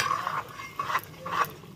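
Masala for an Odia-style potato mutton curry stirred in hot oil in a pan, giving three quiet scraping, rasping sweeps in a steady rhythm, close and alone.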